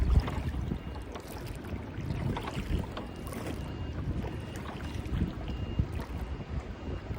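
A boat's engine rumbles steadily as it approaches on the water in a marina, amid wind and gentle splashing, a continuous low drone that stays fairly constant throughout.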